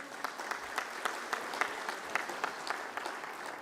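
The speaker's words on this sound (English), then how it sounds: "Let's welcome with a big round of applause." Applause rises at a conference to welcome a dignitary, a moderate crowd clapping steadily with scattered sharper claps throughout.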